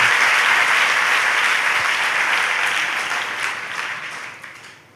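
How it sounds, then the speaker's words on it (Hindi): Audience at a spiritual gathering honours teachers with loud sustained applause, a thick continuous clapping that gradually tapers and fades toward the end. "तालियों से अभिनंदित कीजिए।"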